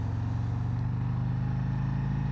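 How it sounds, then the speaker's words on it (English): Deep, steady exhaust rumble from a 2021 Harley-Davidson Road Glide motorcycle, close and continuous with a low pulsing throb and no speech. "The Road Glide sounds so much throatier than the Challenger."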